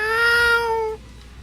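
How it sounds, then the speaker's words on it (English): A cat meows once, a long, loud, harmonic cry close by that cuts off abruptly, heard alone in a King's Quest VI game scene. "Shut up, cats!"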